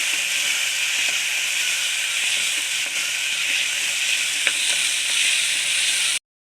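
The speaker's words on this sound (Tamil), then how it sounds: "இதையும் சேர்த்து நல்லா வதக்கிக்கலாம் எல்லாத்தையும் நல்லா வதக்கிக்கலாம்" Country tomatoes sauté in a pan with onion, mint and coriander for an egg biryani in a pressure cooker, giving a steady loud sizzle and hiss with occasional faint stirring clicks, then cutting off abruptly.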